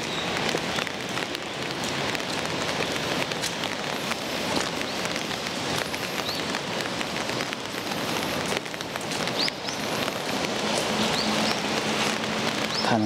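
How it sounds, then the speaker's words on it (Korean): Steady rain falls on surfaces outdoors by a cathedral on a market day, a dense continuous patter with scattered sharper drops throughout, with no talking. "장날이라고 오늘도 비가 오네요."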